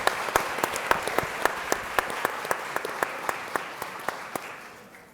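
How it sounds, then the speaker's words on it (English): Applause for panelists at a green energy workshop: a moderate crowd claps steadily, with a few crisp rhythmic claps standing out, then gradually fades. "a round of applause for our panelists"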